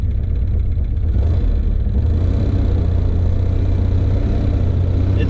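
A cheap Ford Ranger pickup pushing through about a foot of snow with an angled plow blade, its engine rumbling loud and close in a steady low drone with a slight rise in revs.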